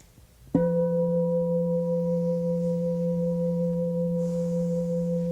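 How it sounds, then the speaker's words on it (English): Gong struck once for meditation: a sudden attack blooms into a loud, steady, humming tone that sustains evenly for several seconds without fading much, alone with no voices. "as I sound the soothing tones of the gongs"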